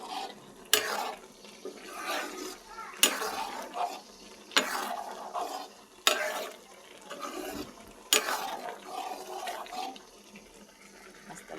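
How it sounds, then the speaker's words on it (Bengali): Pasta and noodles boiling in a pot of water, with loud watery stirring strokes returning roughly every two seconds over a softer bubbling wash, close by. "এখানে পাস্তা আর লুডু সিদ্ধ করা হচ্ছে"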